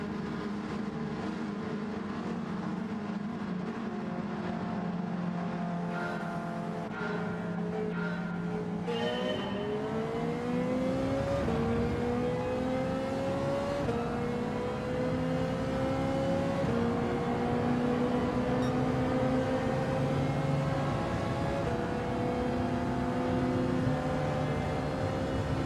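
Race cars in Gran Turismo 7 daily racing: an engine hums steadily, then from about nine seconds it revs up through gear changes in rising sweeps, with other engines roaring close by, loud and continuous with no speech.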